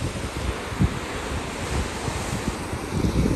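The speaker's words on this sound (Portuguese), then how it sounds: "Olha esse mar, pessoal." Sea waves break at an island beach in a continuous, fairly loud rush, with gusts of wind buffeting the microphone and occasional stronger surges, and no voices.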